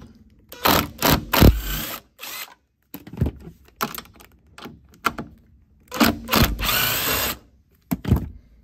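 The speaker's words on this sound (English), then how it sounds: "we're going to have to remove bolts from all 4 corners in order to get this floor up" Ratchet wrench loosening 10mm floor bolts inside a Ford Bronco, heard as repeated bursts of quick clicking ratchet strokes with short pauses between, close and fairly loud, with no talking.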